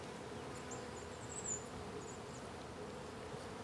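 Italian honeybees hum inside an open hive during an inspection, a faint, steady buzzing drone with a few brief louder passes and no talk.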